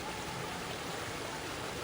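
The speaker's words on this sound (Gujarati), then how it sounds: "ચોખ્ખું એકદમ પીવાનું પાણી આ અને ક્યાંથી આવે એ હું તમને બતાવું દેખો ઝરણામાંથી આવે પહાડમાંથી" Clear spring water from the mountain running in a stream, a faint, even rushing flow heard from close by with no voices.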